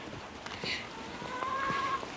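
Heavy rain pouring down outdoors on an allotment in a storm, a steady hiss of falling drops with some wind, fairly faint and continuous, with a bird call partway through.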